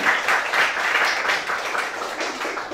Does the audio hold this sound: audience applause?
yes